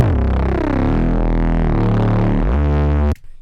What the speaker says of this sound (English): you get a really clean sounding Reese.